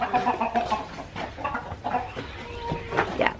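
Chickens on a farm during morning chores, clucking continuously up close, with overlapping calls and soft scratching of the flock crowding near feeders.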